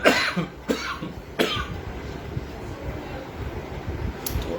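A few close, sharp coughs in quick succession at the start, then a quieter stretch with low room hum and one faint cough at the end.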